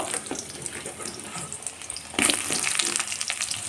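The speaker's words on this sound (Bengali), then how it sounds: "এতে আলুগুলো দিয়ে লাল লাল করে ভেজে নেব" Potatoes sizzle and crackle as they fry in hot oil, a steady frying hiss that grows louder and busier partway through, with no talking.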